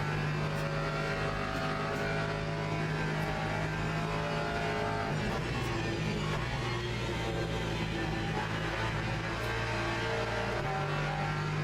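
Hypercar engine roaring through the Porsche Curves in the Le Mans Ultimate racing game, a loud continuous high-revving drone with shifting pitch and faint tire noise, no talking.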